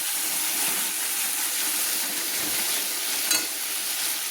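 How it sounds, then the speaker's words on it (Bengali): A spice paste with turmeric fries in a pan, a dense continuous hissing sizzle with faint stirring, loud and close without speech. "দিয়ে আমি মশলাটা কষিয়ে নিচ্ছি"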